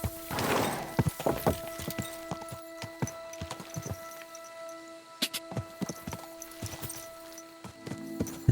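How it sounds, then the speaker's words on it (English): Horse hooves clip-clop in irregular, moderately loud steps as a rider travels in the video game Kingdom Come Deliverance II, over faint sustained background tones. "You do not need to hold the left shift while riding horse."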